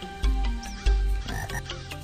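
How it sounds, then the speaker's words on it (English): Frog croaking in the Jurassic Park Sega CD video game, two loud deep croaks followed by quieter rattling calls over a soft electronic game background. "A frog."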